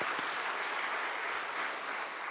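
A church congregation applauds its choir with a broad, even wash of clapping that sounds distant and diffuse, fading slightly near the end.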